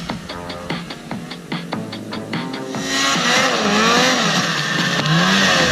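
Snowmobile engine revving hard while climbing a mountain slope, loud and close, with rising and falling whine as throttle is pinned, growing into a sustained roar.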